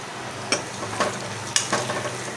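Onions with curry leaves sizzling in a pan as turmeric and red chili powder go in; a continuous loud sizzle with a few sharp stirring scrapes spaced about half a second apart.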